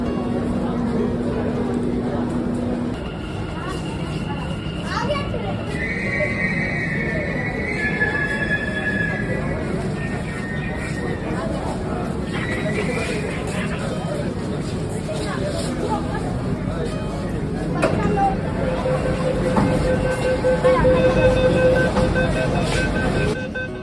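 An automatic metro train rumbles and hums into Howrah's underwater metro station, with squeals and tonal whines of braking over a crowd's chatter and a voice talking.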